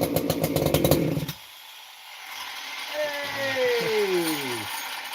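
A Husqvarna 288XP chainsaw engine runs at mid idle with the choke off, rattling loudly and then dying away before revving back up in rising, wavering pitches, fairly close.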